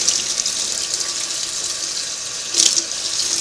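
Tap water runs steadily into a sink as small sewing machine parts from a Singer 301A are rinsed, a continuous close hiss with a brief louder splash near the end.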